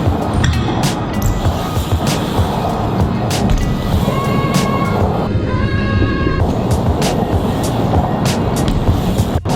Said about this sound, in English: the sound of the cars going over you is really weird to think about